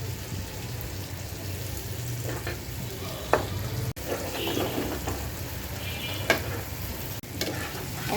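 Golda chingri prawns fry in a pan of oil with a steady, soft sizzle and crackle, broken by a few sharp clicks as a utensil strikes the pan; the prawns are being cooked into a bhuna.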